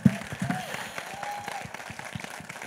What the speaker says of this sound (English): huge round of claps, please